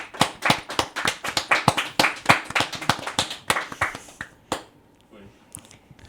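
A quick round of clapping from a few hands, dense and rhythmic at first, then thinning out into scattered claps before it stops.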